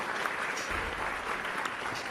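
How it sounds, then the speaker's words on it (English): A big round of applause on a live show, a dense, continuous clapping from a crowd that holds steady throughout with no break and no talk. "we're going to give him a big round of applause"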